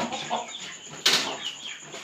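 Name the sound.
original desi (gavthi) hen clucking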